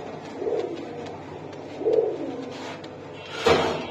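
A male and female pigeon pair, one khaki and one chuina, coo softly nearby: three separate throaty coos spaced about a second and a half apart over a quiet background.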